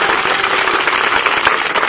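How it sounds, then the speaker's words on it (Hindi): Vigorous applause from a crowd at a birthday gathering in India where school supplies are handed out to children: thick, loud clapping throughout the short stretch, close and continuous, with no speech. "जोरदार तालियां।"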